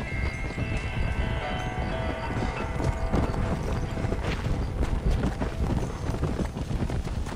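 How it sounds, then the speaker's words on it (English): Horse hooves clip-clop steadily in Red Dead Redemption: Undead Nightmare, a continuous trotting rhythm with an occasional whinny over a dense game soundscape, moderately loud throughout. "¿Dónde está mi fiel caballo?"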